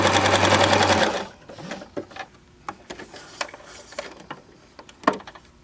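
A Baby Lock Zest sewing machine runs a fast, steady top-stitching burst through folded fabric for about a second, followed by scattered clicks and taps of handling the machine.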